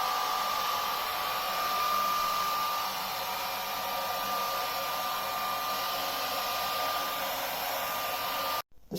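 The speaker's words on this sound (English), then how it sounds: "so I thought I'd get an air dryer on it" An air dryer blows steadily at close range while drying narrowboat paintwork, a constant whooshing roar that cuts off abruptly near the end.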